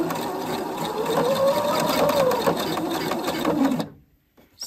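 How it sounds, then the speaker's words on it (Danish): A sewing machine stitches elastic back and forth on children's trousers, a close, steady rapid whirring run of stitches for about four seconds before stopping. "Kører bare lige over frem og tilbage et par gange her."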